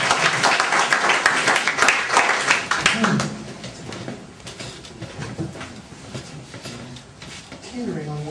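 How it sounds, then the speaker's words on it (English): A stage hypnosis audience applauds, the clapping dense and loud for about three seconds before thinning into scattered claps and crowd murmur. "give them up a round of applause."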